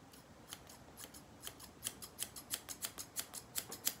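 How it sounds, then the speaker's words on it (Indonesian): Hair thinning scissors snip repeatedly close up, a run of crisp metallic clicks that starts sparse and quickens into a steady rhythm of about two or three snips per second, in a quiet room. "Dan ini adalah gunting untuk menipiskan rambut."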